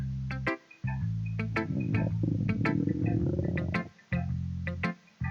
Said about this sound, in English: Sounds like a stomach rumbling